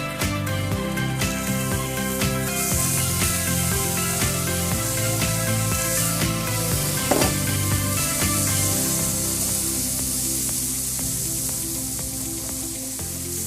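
Prawns seasoned with salt and pepper powder roast in oil in a pan, giving a steady soft sizzle and hiss throughout, partly masked by louder background music.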